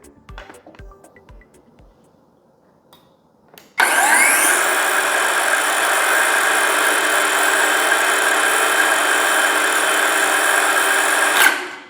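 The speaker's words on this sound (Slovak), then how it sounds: "Hlučnosť bez zaťaženia je veľmi priateľná, iba okolo 75 decibelov" A Parkside Performance 12 V cordless circular saw spins up with no load. After a few faint clicks and taps it starts abruptly into a loud, steady high-pitched whine that holds evenly for about eight seconds, then stops.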